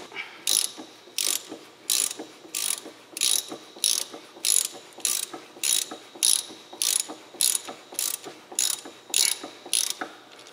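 A ratchet works loose a car's sway bar link with about seventeen rhythmic bursts of clicking pawl, each stroke close and crisp, evenly spaced with brief pauses between.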